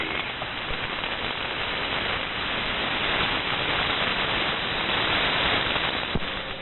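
Steady, dense static hiss fills an amateur-band military radio net, broadband and unbroken for several seconds, with a sharp crash near the end and no voices over it.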